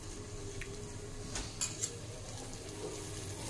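Chopped potato, carrot, beans, cauliflower and peas go into a pot for vegetable dum biryani, making a faint sizzle and a few soft clatters and spoon clinks, with a cluster of sharper taps in the middle.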